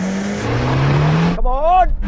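A Suzuki Jimny SUV engine drones loud and steady through an off-road challenge, then a voice shouts over the engine near the end.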